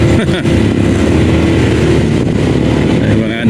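Loud motorcycle engines rumble and drone continuously, close by, as the motorcycles ride through deep mud on the way to San Mateo, with people talking over the steady roar.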